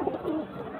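Pigeons coo softly and steadily at a stall in a busy weekly market in Madhyamgram. The coos are fairly faint, with a low murmur of background noise underneath.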